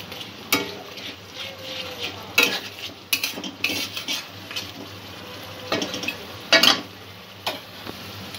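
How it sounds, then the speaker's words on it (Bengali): A spoon stirs spice masala for aloo dum in a pan, making intermittent scraping and clinking strokes over a soft background sizzle, close by and uneven in rhythm. "আবারও মশলাটা একটু মিক্স করে নেব।"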